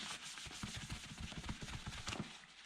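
Short rhythmic scrubbing strokes rub across a dirty, chipped used item up close and fairly quiet, with no talking.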